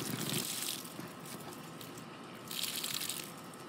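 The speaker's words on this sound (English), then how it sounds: "Now we're going to squeeze most of the water out of them because we just want them damp when we're dyeing." Wet hanks of dyed yarn are wrung out by gloved hands, giving soft, faint squishing and dripping water in two bursts with a quieter stretch between them.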